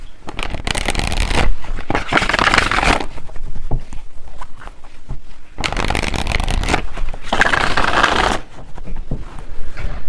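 Tarot cards are shuffled close up in loud, crisp riffling bursts, two long runs separated by quieter handling and shifting of the deck, with no talking.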